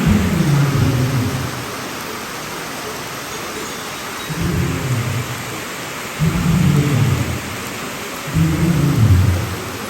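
Heavy rain pours steadily on the grounds of a temple where an elephant is kept, with repeated deep rolls of thunder rumbling in long swells, loud and enveloping.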